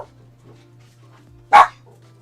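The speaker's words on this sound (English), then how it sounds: "It sounds like there's a dog, like, possibly injured." A single dog bark from outside, one short sharp burst standing alone over a quiet background with a steady low hum.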